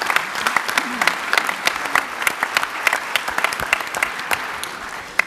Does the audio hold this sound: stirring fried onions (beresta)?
no